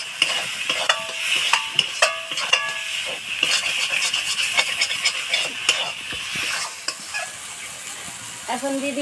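Spice paste of ground coriander and turmeric paste frying in oil for a broiler chicken curry, with continuous sizzling and repeated scraping stirs of a spoon against the pan, close and clear.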